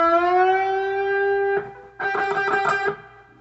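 Electric guitar with a string bent from E up to G, a sustained note gliding slightly upward, then a brief rapid run of picked notes before it fades; close and alone.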